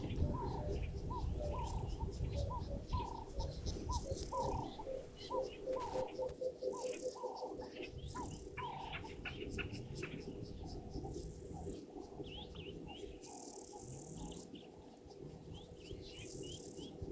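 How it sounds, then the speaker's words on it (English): An emerald-spotted wood dove calls in the wild with a steady series of soft, evenly spaced coos. The calls are mixed with other birds chirping and a constant low rumble of background noise. "If we're lucky, we might even actually hear one calling or see this one calling."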